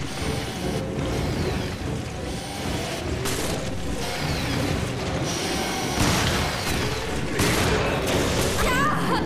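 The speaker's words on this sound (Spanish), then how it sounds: "la de tiros que le estoy metiendo al bicho" Gunshots in the video game Resident Evil Revelations arrive as a string of sharp shots and clanking mechanical noises against a busy game soundtrack, with a voice faintly underneath.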